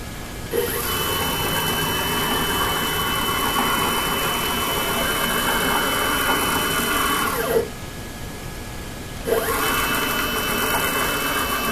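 A CNC mini mill's Z axis stepper motor runs under Mach 3 control with a steady, sustained mechanical whine, stopping briefly midway before starting up again, close and fairly loud with no talking.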